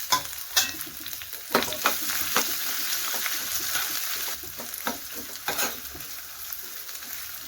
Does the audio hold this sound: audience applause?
no